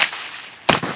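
A single rifle volley fired in a tribute salute at a memorial ceremony, one sharp loud crack near the end after a brief pause, with outdoor ambience and no talk.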